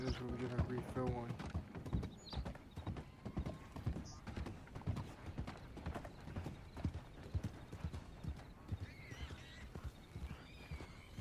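Horse hooves clip-clop in an irregular walking rhythm in the video game Red Dead Redemption 2, with a brief whinny, game music and someone talking over them.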